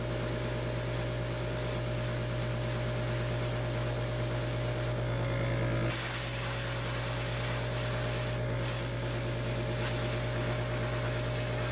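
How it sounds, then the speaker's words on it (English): A Sparmax compressor-driven airbrush sprays black primer in a steady, close hiss that runs almost unbroken, with a louder burst midway and a brief spike later, over a constant low motor hum. "I'm testing out my airbrush to make sure it's spraying correctly"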